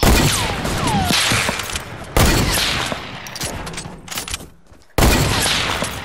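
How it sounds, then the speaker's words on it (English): Rifle shots crack out in the Fortnite video game, three loud abrupt reports spaced a couple of seconds apart, each followed by a decaying rumble and scattered game sounds. "I shoot all my shots. hunting rifle shot."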